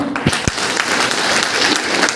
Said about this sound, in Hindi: तो एक जोरदार ताली होनी चाहिए।